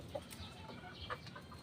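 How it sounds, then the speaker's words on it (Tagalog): Chickens on a farm cluck in a soft, scattered chorus, with a few sharper calls standing out briefly over a steady low murmur of fowl. "Sobrang dami na ng aming mga manok dito."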